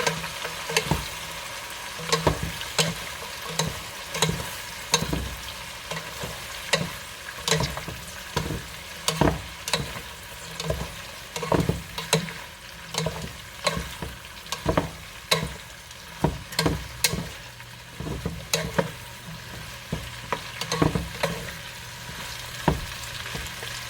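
Chicken wings and stir-fry noodles fry in a pan under a steady sizzle, while a utensil stirs and scrapes in frequent sharp, irregular knocks and clatters, close and fairly loud, with no one speaking.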